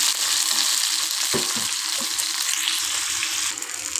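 Onions and green chilies fry in a pan with a loud, constant sizzle, broken by a few stirring scrapes of a utensil.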